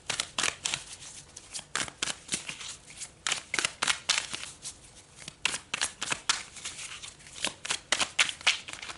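Tarot cards are shuffled by hand in quick, close riffling bursts, each flurry of papery flicks followed by short pauses as cards are pulled from the deck, repeating through the whole stretch with no talking.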